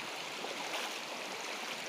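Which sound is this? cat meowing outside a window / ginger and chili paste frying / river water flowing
river water flowing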